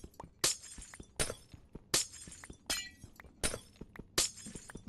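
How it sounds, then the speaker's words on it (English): Glass blocks breaking in Minecraft, a rapid series of about seven bright shattering crashes at a steady rhythm, each a sharp burst with clinking tails, loud and close with no talking. "It's breaking glass ASMR."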